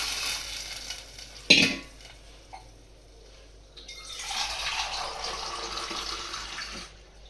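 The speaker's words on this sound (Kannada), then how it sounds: "ಅದಾದಮೇಲೆ ಈ ರಸವನ್ನು ಅದಕ್ಕೆ ಬಿಡ್ತಾ ಇದ್ದೀನಿ." Tamarind juice is poured into a hot tempering of chilli, garlic and curry leaves for rasam, giving a sharp clatter followed by a loud, sustained sizzle and bubbling close by, with no speech.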